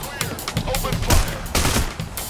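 Rapid gunfire in the heist shooter Payday The Heist, with dense overlapping shots and bursts of automatic fire crackling continuously and loudly through the short moment, punctuated by heavier single reports.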